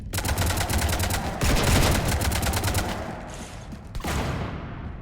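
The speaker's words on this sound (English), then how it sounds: "You want to stop shooting up my ship?" Rapid bursts of automatic gunfire in Mass Effect 3, loud and close with dense rhythmic shots for several seconds before tapering into scattered reports.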